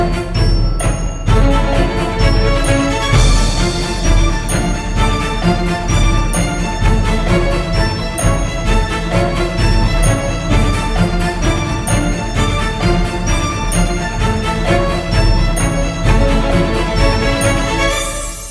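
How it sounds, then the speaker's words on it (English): Busy orchestral passage of short, detached staccato violin and cello notes racing in quick runs, from the Orchestral Tools Benjamin Wallfisch Strings library, loud and continuous with a deep sustained low end underneath. "I decided to add the violin and cello, and I tried to just create using staccato."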